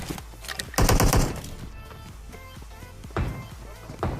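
Gunfire in the PUBG video game on the Miramar desert map: a loud rapid automatic burst, then a few scattered single shots and short bursts, with quieter game ambience in between.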